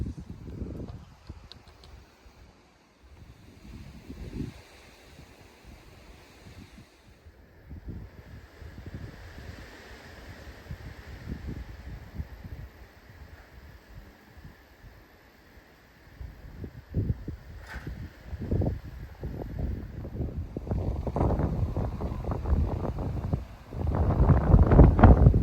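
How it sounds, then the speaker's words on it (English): Wind gusts outdoors on open hillside access land, buffeting the microphone in irregular rumbling surges that grow stronger and louder toward the end. "That wind's picking up."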